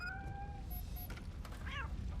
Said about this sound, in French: Sauver un chat de l'hôtel en feu.